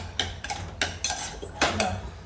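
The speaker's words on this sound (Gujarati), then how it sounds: "એક બાજુ મમ્મી દાળ વઘારે છે." Metal pots and utensils clink and scrape in a home kitchen while dal is being tempered, several sharp close knocks and clatters in quick succession with no talk.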